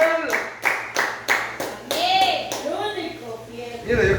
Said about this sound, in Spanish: denle una ofrenda de palmas al Señor, hermano